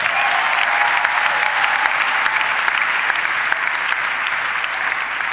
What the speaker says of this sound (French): Acclame le Seigneur très très fort.